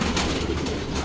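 A dove coos softly and continuously, close by, its low throaty tones blending with a steady rustling background noise.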